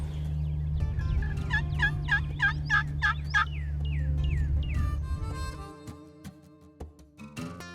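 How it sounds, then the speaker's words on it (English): Wild turkeys gobble repeatedly from a distant roost across a field in the early morning, a rhythmic series of rattling calls over steady low outdoor rumble, followed by scattered clucks and chirps. "We hear them gobbling, hear the hens clucking, so it's a good spot."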